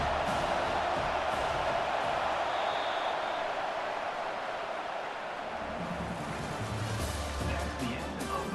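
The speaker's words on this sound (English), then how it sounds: "Decibels rising as the crowd gets behind this defense on 3rd down." A stadium crowd in the College Football 25 video game roaring behind the defense on third down, a dense, loud, continuous wash of cheering that swells toward the end.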